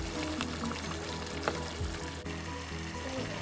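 Broth pours steadily into a pot of Filipino pinakbet stew, a continuous close liquid rush with a faint sizzle underneath and a brief splash midway.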